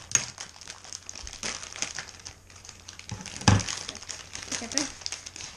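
Scissors struggle against crinkly ramen and candy packaging, producing scattered plastic crackles and crumpling rustles with a louder crunch midway, while someone talks throughout.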